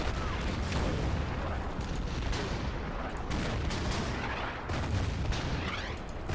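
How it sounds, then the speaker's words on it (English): Artillery barrages pound invading tanks in the wartime strategy game Order of Battle, a dense, sustained wall of booming gunfire and explosions rolling continuously without pause. "And then all the artillery will fire on these invading tanks."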